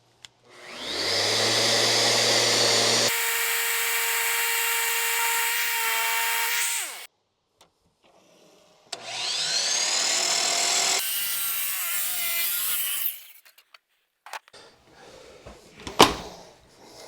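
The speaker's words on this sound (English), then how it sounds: "I'm going to use some 60 grit sandpaper and try and square that off." A cut piece of wooden balustrade being squared off with 60 grit sandpaper, heard as two loud, sustained abrasive bursts with a droning, motor-like tone. A short silent gap separates them, and scattered knocks and scrapes follow.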